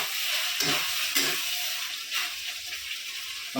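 Fish curry spice paste fries in a pan before potatoes go in, a continuous sizzling hiss broken by a few scraping stirs of the spoon.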